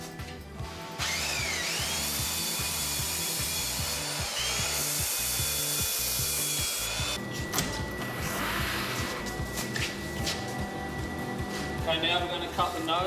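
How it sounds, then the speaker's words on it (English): A belt sander works along the rails of a bodyboard core, a loud continuous whining grind that shifts in pitch as the tool moves, with talk over part of it. "Now just going to sand the core up with the belt sander."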